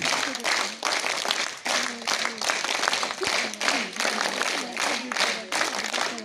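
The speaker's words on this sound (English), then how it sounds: "Now give a signing clap." A school assembly claps in unison in a rhythmic pattern, sharp group claps falling in repeated counted bursts with brief gaps between, and a voice calling along at the same time.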